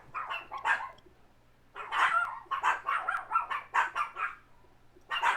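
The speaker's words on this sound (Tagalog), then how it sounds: "Yung aso mo, Ay, rinig. rinig na rinig sila." A dog barks in a quick series of sharp, moderately close yaps, pausing briefly before another burst, with a faint steady hum underneath.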